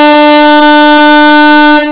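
A beginner's saxophone holds a single steady note for about two seconds, loud and close, with a bright, reedy, unwavering tone that stops abruptly at the end.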